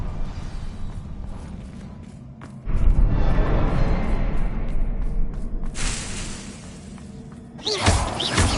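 A Confringo blasting spell goes off in Hogwarts Legacy: a sudden crashing impact with shattering, whooshing burst, followed by a second bright blast near the end, over a steady ambient background.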